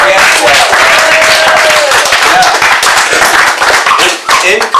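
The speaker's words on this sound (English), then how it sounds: "Let's give Bud a hand clap." An audience at a Christian business talk on sales clapping hands for a speaker, steady loud applause for several seconds with voices and cheers blending in.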